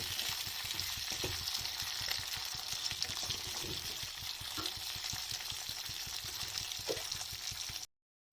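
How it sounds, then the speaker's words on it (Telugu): Cashew nuts fry in a pan until light brown, making a continuous low sizzle with soft rapid crackling throughout, fairly quiet and alone. "జీడిపప్పు కూడా ఫ్రై చేసుకొని"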